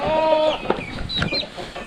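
Close, loud chicken clucking and squawks, a few birds calling over each other in quick bursts.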